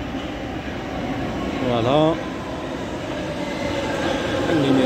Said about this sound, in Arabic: هنا غادي نشوفوا المترو ديالنا هو غادي يدخل دابا